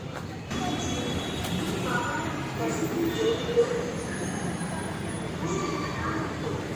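A metro train at Parade Ground metro station in Hyderabad rumbles steadily with a faint wheel squeal, a continuous moderately loud rolling drone.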